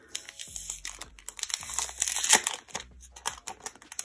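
Plastic packaging crinkles and crackles up close as sticky adhesive is peeled off a set of K-pop ID cards, a busy run of sharp rustles and tearing snaps.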